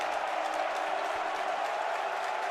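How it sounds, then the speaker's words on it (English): Large basketball arena crowd at a Big Ten game in Chicago, with sustained dense cheering and applause. The roar is steady and loud throughout, with no breaks. "Here comes the majority Cream and Crimson crowd again."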